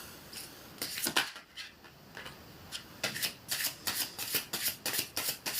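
Playing cards shuffled for a card reading during a live spirit-contact session: a string of close, crisp riffle bursts in a steady rhythm, with no talk over them.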